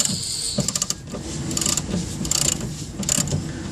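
Ratchet wrench loosening bolts on the front wishbone of a Peugeot 106 S16, quick bursts of ratcheting clicks in several short runs separated by pauses, close and moderately loud.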